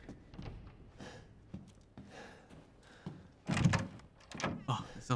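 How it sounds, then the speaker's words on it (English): A door opening or closing with a dull thunk inside the horror game Resident Evil Village, heard amid other knocks and shuffles while a person talks over it. "I heard a door."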